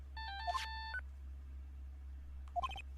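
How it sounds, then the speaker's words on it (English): An old-style cell phone ringtone in Phoenix Wright: Justice For All plays two short bursts of bright electronic beeping melody, separated by a pause over a low steady hum. "I bet it was this ringtone that caused it"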